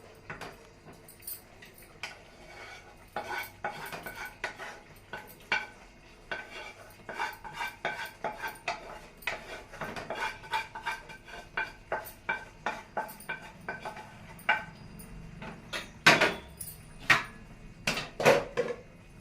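A spoon scrapes and clinks against a pot as cooked jackfruit curry is stirred into half-cooked rice for pulao, irregular metallic taps and scrapes that grow busier and louder near the end.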